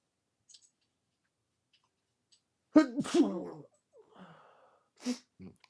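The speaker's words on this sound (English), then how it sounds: "I've been sneezing like crazy" A single loud sneeze breaks a quiet stretch, with a brief sharp inhale before it and a softer sniff or short sneeze afterward.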